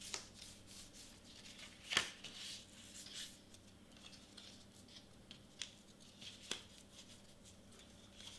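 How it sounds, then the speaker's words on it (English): Paper pieces of a 3D letter shaker are folded by hand, giving quiet, close rustling and soft creasing with a few sharper crinkles. "So let's fold everything in."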